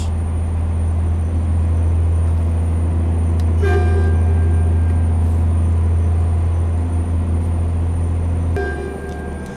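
A steady low truck engine drone with a whining turbo note in Euro Truck Simulator 2, holding for several seconds before easing off near the end.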